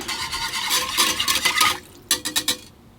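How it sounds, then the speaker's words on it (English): Milk being whisked into melted butter in a bowl gives quick rhythmic scraping and clinking strokes, a busy burst that pauses, then a few short separate strokes before stopping. "give it a quick whisk"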